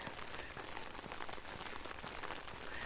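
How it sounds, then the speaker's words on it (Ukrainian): Steady rain falls in rural Canada, a dense, even patter of drops spattering on surfaces close by, continuous and without pause. "дощ іде"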